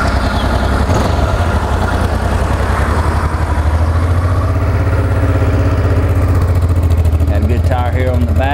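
A Honda NT700V motorcycle with factory exhaust idles steadily and smoothly up close, a continuous low rumble with someone talking over it.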